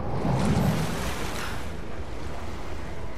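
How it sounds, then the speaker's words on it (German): In Rise of the Tomb Raider, water drains away in a steady broadband rush, loud and close, with a slightly stronger surge at the start before it settles into a continuous wash. "Ach, wir lassen das ganze Wasser ab, damit wir dann hier letztendlich durchkommen,"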